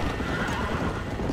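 Horses in the Red Dead Redemption video game gallop with rapid, loud hoofbeats while one neighs, all packed into a short, dense burst.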